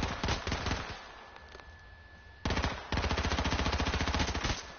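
Rapid automatic gunfire in a shooting video game, two bursts of fast, evenly spaced shots with a short gap between them, loud and close.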